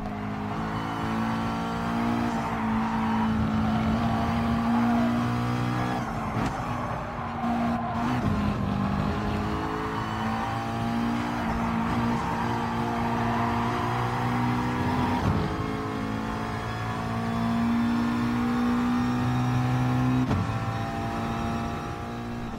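Race car engines at Suzuka in Gran Turismo Sport, a loud sustained whine with several cars close together, pitch rising and falling through gear changes and corners, with occasional tire squeal.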